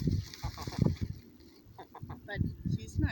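Newly arrived hens, with a rooster among them, cluck softly and intermittently in short bursts nearby while people chat close by.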